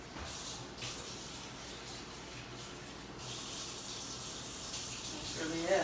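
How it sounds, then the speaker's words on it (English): Water is poured into a pan while cooking steak quesadillas, a soft continuous splashing and hissing pour lasting several seconds, growing slightly louder near the end. "I'll put a little bit of water in that too."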